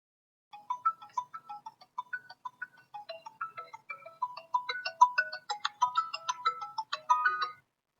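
A mobile phone ringtone plays during a chemistry class, a bright, steady electronic melody of repeated tonal notes lasting about seven seconds and growing fuller toward the end, heard alone without talk.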